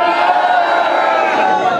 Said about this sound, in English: After three, as loud as you can, I want you to shout, come on, Chelsea